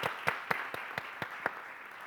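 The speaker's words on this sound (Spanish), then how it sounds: "Aplauso, ¿no?" Brief round of audience applause at an international conference on good practices with ICT, a handful of distinct claps over a steady patter of hands, moderately distant and fairly quiet, with no talk.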